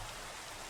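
Rain pours down in a video game, a thick unbroken wash of hiss at steady loudness, brief and with no talking over it.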